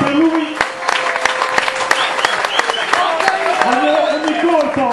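Audience applause for Fabio Chironi, a billiards player taking his number 11 shirt at a sports event, with steady clapping throughout and a voice talking over it.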